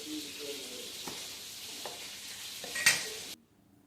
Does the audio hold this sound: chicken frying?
yes